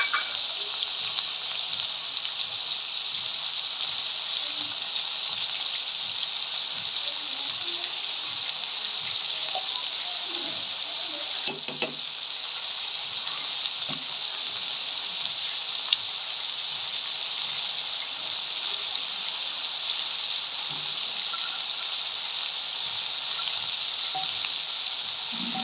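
Keema and paneer sizzle steadily in a pan as they are stirred together, a constant bright frying hiss with soft scraping stir sounds running underneath, close and even throughout with no talking.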